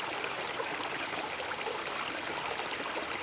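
A creek flows nearby, a close, steady broadband rush of moving water that holds even and unbroken throughout, with no voices.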